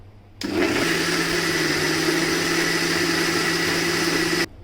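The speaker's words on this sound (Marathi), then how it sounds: "आता आपण हा सर्व मिश्रण मिक्सरला बारीक करूयात" A kitchen mixer grinder switches on and runs for about four seconds, a loud, steady whirring motor whine as it blends mango pulp for aamras, then cuts off abruptly.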